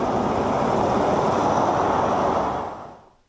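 The Lagos Red Line train runs at Ikeja terminal with a loud, steady, broadband rumble that fades out toward the end.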